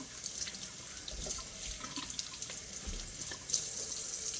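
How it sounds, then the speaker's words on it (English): Vegetables for fritters being washed under a running kitchen tap. The water flows steadily and hisses close by, with faint splashes and no voices. "Wash, wash, wash."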